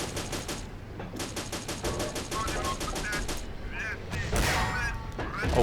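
Rapid bursts of gunfire from a video game tank battle, with the tank gun shooting at an enemy tank: dense repeated shots in quick rhythm, then heavier blasts near the end, loud and close, with voices in between.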